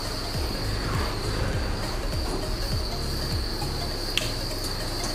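Farmed adult crickets inside a storage shipping container produce a dense, continuous high chirping drone, steady and fairly loud throughout with low rumbling underneath and a single brief tick near the end.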